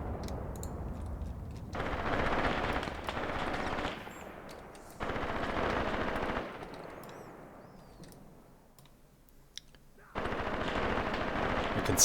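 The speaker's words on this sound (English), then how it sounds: "And now these machine guns here are opening up." Machine guns firing in the Graviteam Tactics war game: dense bursts of rapid automatic fire in several long stretches, separated by quieter gaps with distant battle noise.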